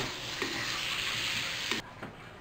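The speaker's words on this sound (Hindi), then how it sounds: "आधा धनिया डाल लेंगे हरा धनिया, और अच्छे से मिक्स कर लेंगे।" Green coriander gets mixed into a taro and onion-ring curry in a hot pan, producing a steady frying sizzle with a few spoon scrapes that ends in a brief clatter, and no voices are heard.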